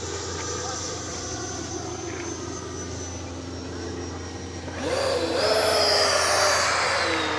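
E-flite 90mm Viper RC jet flying at full throttle, a continuous high-pitched ducted-fan whine passing overhead, swelling louder and shifting in pitch as it sweeps closer, with someone talking over it.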